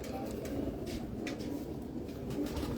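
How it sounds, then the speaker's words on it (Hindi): Pigeons of a competition breed coo softly and steadily against a low, rumbling background, with the repeated throaty calls blending into a continuous murmur. "बहुत अच्छे कबूतर हैं यार"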